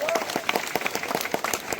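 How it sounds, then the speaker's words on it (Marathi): A group claps along in rhythm at a welcome for a Sai Baba palkhi procession group, steady repeated claps close by under a voice talking. "ओम साई टाळ्या वाजवा"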